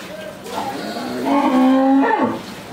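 Cattle on a dairy farm mooing loudly and close by, one long drawn-out low call that rises and bends at the end, with quiet farm background underneath.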